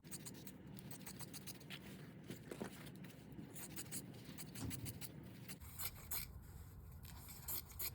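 Scissors cut steadily through a chiffon hem, a soft continuous rasping snip with light rustling of the fabric, close and quiet, with no talk.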